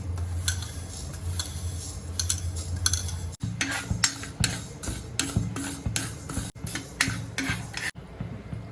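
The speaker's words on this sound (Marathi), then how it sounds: "मेथी भाजून घेऊया" Fenugreek seeds dry-roast in a pan for a rustic raw-mango pickle, a spoon scraping and clinking against the metal in quick, repeated strokes, close and fairly loud with brief pauses.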